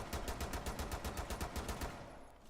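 Rapid automatic gunfire from Rainbow Six Siege crackles in a fast, even burst of about a dozen shots, then cuts off and leaves a quiet tail.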